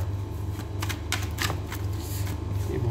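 Tarot cards being shuffled and laid out in a run of soft, papery riffling bursts over a steady low hum, close and fairly quiet, with no voice.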